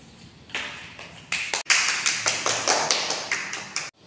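Classroom applause for a student presenter: a handful of light, close claps that begin scattered and settle into a brisk, even clapping rhythm for a few seconds before stopping.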